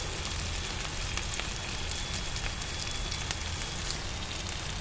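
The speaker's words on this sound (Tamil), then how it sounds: "வெங்காயம் நல்லா பொன்னிறமாக வணங்கணும்" Onions frying in oil with curry leaves and a pinch of asafoetida, browning for tomato sambar: a steady close sizzle and crackle, continuous and even, with no talking.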